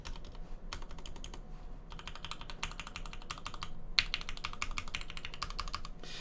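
Mechanical keyboard on the J-01 prototype with no sound dampening, its switches, plate and keycaps clacking in fast, dense bursts of typing separated by brief pauses, close and crisp.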